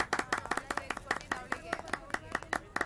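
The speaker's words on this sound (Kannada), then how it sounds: "ಎಲ್ಲರೂ ಜೋರಾಗಿ ಚಪ್ಪಾಳೆ ತಟ್ಟಿ." A small audience claps for the first-place winner of a rangoli contest, about a dozen distinct sharp claps in an uneven rhythm, fairly close and punchy, with faint voices in the background.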